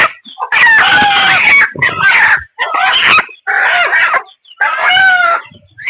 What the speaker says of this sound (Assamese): ইয়াতে কুকুৰাবিলাক আনি পেলাই থৈছোঁ।